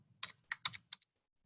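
Four quick, light keystrokes on a computer keyboard while entering an email address, close and crisp in a quiet room, with a brief pause after.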